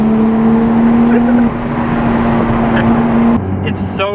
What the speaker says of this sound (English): let out a loud pop out of the exhaust between shifts